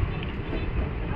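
The Bareilly–Indore weekly express train rumbles steadily, a dense low roar of rolling wagons heard from nearby, with no voices over it.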